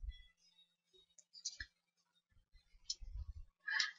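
Typing on a computer keyboard: sparse, quiet, uneven clicks and key taps with short pauses between them and one small cluster near the end, all faint against near silence.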